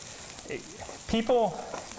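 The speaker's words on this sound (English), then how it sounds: "we're going to mix it around just so that the rice kernels all get coated in oil" Rice kernels being stirred in oil in a pot for roasted fall vegetable risotto give a soft, close sizzle with light scraping, while people talk over it.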